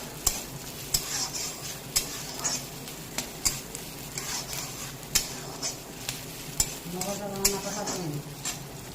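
Chopped onion frying in hot oil while being stirred, a soft continuous sizzle punctuated by regular spoon taps and scrapes against the pan, with a voice briefly heard.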